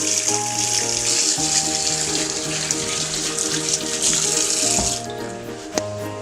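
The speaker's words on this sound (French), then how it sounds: "allons-y, on va se laver les mains" Water runs steadily from a tap while hands are washed, a continuous bright splashing stream that stops near the end, followed by a couple of small knocks and drips.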